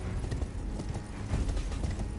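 Horse hooves clip-clopping in the video game Elden Ring: Shadow of the Erdtree, a steady, close, loud run of rapid hoof beats continuing throughout with no talking.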